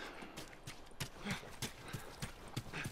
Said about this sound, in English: let's get back on these horses, Tommy